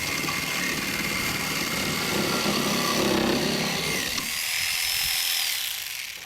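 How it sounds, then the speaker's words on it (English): A jigsaw cuts out the corners of a halfpipe transition, a loud, steady buzzing drone that runs throughout and tapers off slightly at the end. "Cut out the corners of the transition with the jigsaw."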